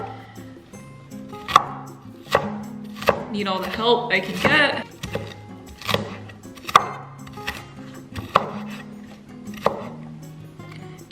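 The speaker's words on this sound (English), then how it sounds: "you're just gonna wanna cut them into super fine pieces" Knife chopping vegetables into very fine pieces on a cutting board for an egg bowl, a run of sharp, close taps with short pauses and a brief flurry of quicker cuts in the middle, under a few spoken words.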